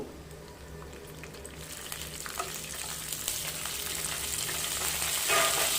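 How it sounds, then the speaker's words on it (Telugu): Urad dal, chana dal, mustard seeds, dry red chillies and curry leaves frying in hot oil, giving a steady close sizzle that slowly grows louder, with a few light stirring scrapes. "శనగపప్పు, ఆవాలు, ఎండుమిర్చి, కరివేపాకు ఇవన్నీ వేసుకొని వేయించుకోవాలి"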